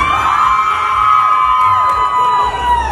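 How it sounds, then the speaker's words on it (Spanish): At a norteña music contest in Fort Worth, Texas, a crowd cheers for contestant number 6 with loud, sustained whoops and high-pitched yells, close and continuous. "Aplausos para la número 6."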